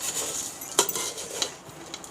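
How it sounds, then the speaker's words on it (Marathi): Poha chivda is stirred in a pan over a low gas flame: soft dry rustling broken by two sharp metallic scrapes of a spoon against the pan, close and fairly quiet. "गॅस बारीकच ठेवायचा आणि हे हलवून घ्यायचं."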